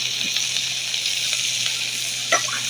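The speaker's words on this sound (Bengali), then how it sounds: "জিরে ফোড়ন দিয়ে দিলাম।" Cumin seeds sizzle in hot oil in a village kitchen pan for tempering, making a steady, close, bright hiss that runs without a break, with one small splutter near the end and no talking.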